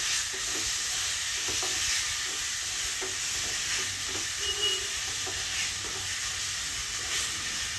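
Chopped tomatoes sautéing in a pan on a low flame, with a continuous soft sizzle and hiss and intermittent scraping and stirring strokes, close and fairly quiet.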